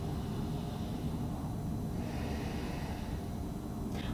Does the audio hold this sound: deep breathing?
yes